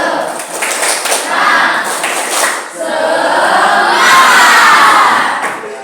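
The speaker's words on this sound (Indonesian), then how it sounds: "Tepuk semangat." A crowd of schoolchildren at a morning class gathering claps and shouts together in a loud, rhythmic spirit clap, with bursts of clapping followed by a sustained collective cheer.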